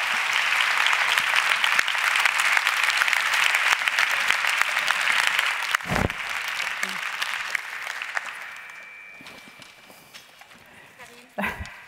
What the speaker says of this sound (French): Je vais vous demander d'accueillir sous un tonnerre d'applaudissements